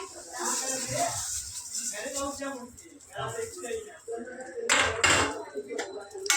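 Broken wheat lapsi is tipped into a pan of fried cashews and raisins, producing clattering, rattling metal scrapes and a shuffling pour while someone talks throughout.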